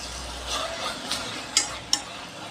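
Tomatoes, green chillies and coriander leaves sautéing in a pan, with a soft steady sizzle and a few scraping stirs, including two sharper clinks of a utensil near the end; no talking.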